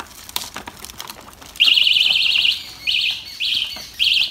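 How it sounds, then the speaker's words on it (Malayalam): A cheap bicycle horn plays an electronic bird-chirp tune, loud repeated warbling bursts that start partway through and return in short groups after brief pauses, with no talk over them. "ഇതൊരു കിളിയുടെ സൗണ്ടാണ്, ചെറുതായിട്ട് ഇങ്ങനെ ഒരു കിളിയുടെ സൗണ്ടാണ്."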